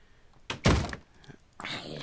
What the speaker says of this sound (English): Stop knocking on the doors. This is very noisy.